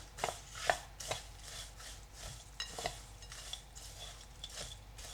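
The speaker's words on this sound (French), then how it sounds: "J'ajoute la banane écrasée et je mélange." Mashed banana is being mixed into a granola mixture in a bowl, giving a quiet run of soft scraping and stirring with several sharper clinks of a utensil against the bowl, fairly close and with no talking.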